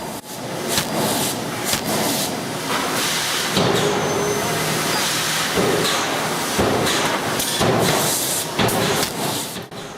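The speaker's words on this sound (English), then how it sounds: "these large forging presses: they are powered up by air with gravity down." An air-powered forging press shaping steel grab hooks in a factory, a loud continuous roar of hissing air and rumbling machinery with repeated bursts and thumps from the press, heard up close.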